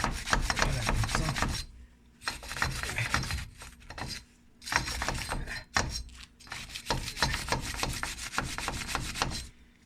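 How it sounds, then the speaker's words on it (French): A wire brush scrubs a wheel hub clean before a brake disc is fitted, producing loud, close, rapid raspy strokes in bursts with a few short pauses between them. "Là, on prend justement la brosse métallique, comme j'ai expliqué tout à l'heure. Donc, on va nettoyer le hub"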